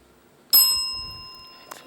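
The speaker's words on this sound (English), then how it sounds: "And that's the bell." A quiz show end-of-round bell rings once with a bright, sharp strike, then rings on in a long, slowly fading metallic tone, with a faint click just before it ends.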